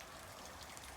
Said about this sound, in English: So it's been raining all weekend.